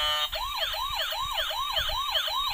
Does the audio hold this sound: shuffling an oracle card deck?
no